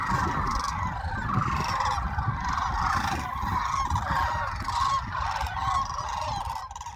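A flock of sandhill cranes calls continuously in a dense, overlapping chorus of rolling, rattling trumpeting, loud and sustained with no talk.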